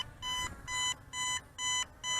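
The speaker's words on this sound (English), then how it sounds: "Faster beeps, and it does come back home." Short electronic return-home warning beeps from an Aosenma CGO36 Shadow Pro quadcopter drone repeat in a steady rhythm, five evenly spaced tones that sound clear but fairly quiet.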